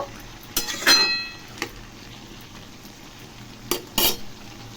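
A spoon scrapes and clinks against a pan while bottle gourd with shrimp is stirred, a few sharp metallic strokes spaced apart over a faint low background.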